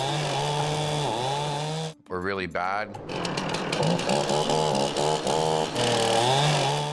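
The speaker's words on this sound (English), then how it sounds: "Even with a chainsaw," Chainsaw cutting into a tree branch that pinches and binds the blade, a loud steady rasping drone broken by a short stutter and restart midway, with someone speaking briefly over it.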